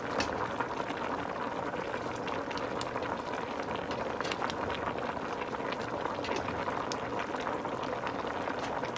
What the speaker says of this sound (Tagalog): hayaan natin kumulo ng 1 minute hanggang maluto yung kangkong